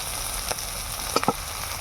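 Shrimp and crabs frying in hot oil for a village-style sour puti fish dish, a loud continuous hiss and crackle with a few brief spattering pops.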